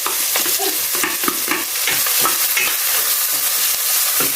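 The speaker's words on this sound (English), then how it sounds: "I'll go ahead and add the spring onions and the carrot together." Spring onions and carrot frying in hot oil, a loud, dense sizzle that stays close and constant while the vegetables are stirred, with soft rhythmic scraping and no voices.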